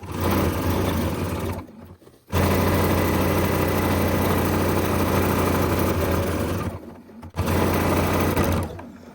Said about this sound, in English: I can just continue stitching all the way around.